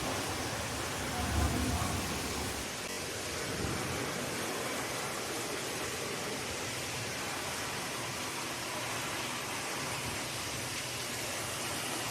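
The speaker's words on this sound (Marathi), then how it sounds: "जोरदार वादळी वाऱ्याचा पाऊस सुरू झालेला आहे" Heavy unseasonal rain driven by strong, stormy wind roars as a dense, steady wash of noise for the whole stretch, with a few low gusty thumps early on and no voices.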